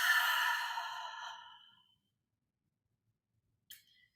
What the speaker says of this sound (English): let's take another deep breath. Inhale through the nose and exhale it out.